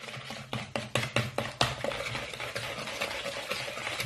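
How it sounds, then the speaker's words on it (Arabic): A mixture seasoned with salt and black pepper for an onion quiche is whisked by hand, starting with several distinct rhythmic strokes and then blending into quieter, continuous whisking. "خلطوه مليح مليح حتى يتضاعف الحجم تاعهم"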